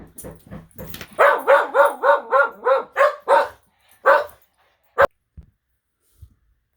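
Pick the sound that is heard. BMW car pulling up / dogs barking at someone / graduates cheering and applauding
dogs barking at someone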